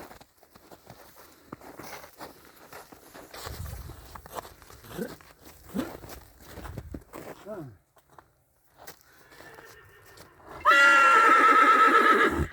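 Clip-clopping hooves and scattered voices give way to a loud, close whinny from a stallion walking paired with a mare near the end.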